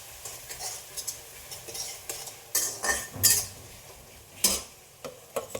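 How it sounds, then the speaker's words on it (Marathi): Potatoes and green chilies for khichdi being stirred and sautéed in a pan, with irregular scraping clinks of a metal spoon against the pot over a faint low sizzle. "छान असं मिक्स करून व्यवस्थित असं परतून घ्यायचं"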